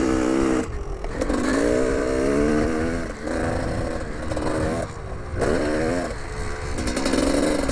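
2001 Gas Gas 300 two-stroke dirt bike ridden on a muddy, slippery track, engine buzzing loud and raspy up close with repeated throttle surges and brief drops between bursts.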